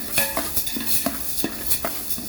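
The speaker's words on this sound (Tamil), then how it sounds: "அடுத்தது உளுந்தம்பருப்பு போடுறோம். இதுவும் அதே ப்ராசஸ்ங்க, நல்லா வறுத்தரணும்." Urad dal dry-roasting in a pan as it is stirred gives a run of repeated scraping and rattling strokes about every half second, close and clear with no talk.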